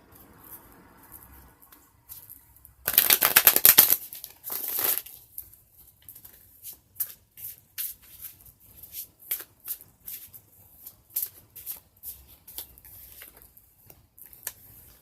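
Stiff tarot cards being shuffled by hand, a burst of loud riffling followed by a long series of soft, irregular card slaps and flicks, close and quiet with no voices.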